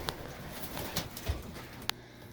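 Pigeons cooing inside a loft holding nesting and breeding boxes, soft low coos close by with a few sharp bird calls and flutters scattered through the quiet background.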